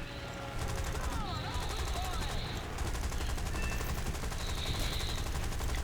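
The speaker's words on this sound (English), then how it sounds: "Firing just a few bullets at a time." Aircraft machine gun fire in the War Thunder video game, a British plane firing short rapid bursts of a few rounds at a time over steady engine drone, with faint voice-like sounds in the background.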